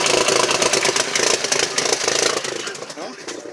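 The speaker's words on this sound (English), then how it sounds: "It's idling where it's supposed to be." A 2003 VW Passat 1.8T engine idles with a steady, close, rattling mechanical chug that stays loud throughout and eases slightly near the end.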